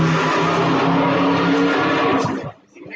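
A Subaru WRX accelerates past on a bridge, a loud, steady engine roar with tire noise held for over two seconds before dropping away quickly as the car passes.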